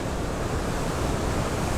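Ocean surf at Bronte beach, a dense continuous wash of breaking waves mixed with wind buffeting the microphone, steady and fairly loud with no voices.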